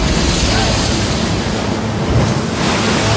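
Giant ocean waves crash and roar in a dense, unbroken wash of surf with strong wind rumble, loud and close, with no voices.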